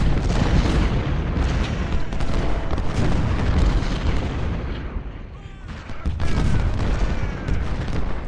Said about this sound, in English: kind of wish we'd had some troops with better guns in here instead of like trying to pick things off with smoothbore muskets